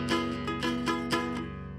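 Guitar strings strummed open without muting, ringing strongly with sustained overtones while several rhythmic strums pulse through, close and full, no talking.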